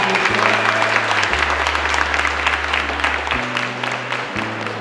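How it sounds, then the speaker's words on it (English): Audience applauding at a supportive-housing event at Pendleton Place, a steady round of clapping from a sizable crowd lasting the whole stretch, with a low hum running beneath it. "How about a round of applause for the state?"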